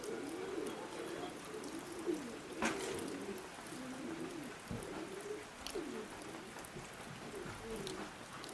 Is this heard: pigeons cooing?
yes